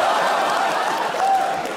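An audience at a stand-up comedy show claps steadily throughout, a dense, even wash of hands with a faint murmur of crowd noise and no pauses.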